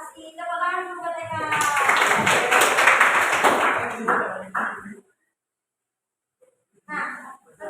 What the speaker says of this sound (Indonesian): Tepuk tangan untuk TK.